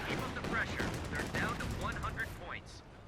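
Bursts of German MG42 machine gun fire in the strategy game Company of Heroes 2 rattle steadily amid other battle noise, forming a continuous clatter of shots mixed with distant explosions.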